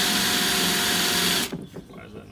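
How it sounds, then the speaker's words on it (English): A power drill whines loudly and steadily for over a second while drilling through a Sprinter van roof, then cuts off abruptly, leaving faint clatter behind. "using the drill to..."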